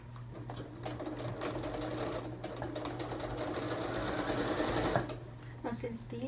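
Sewing machine stitching a fabric cushion cover seam, a steady rapid whir of the needle running close and continuous for about five seconds, then stopping, with a low background hum and a voice speaking under it.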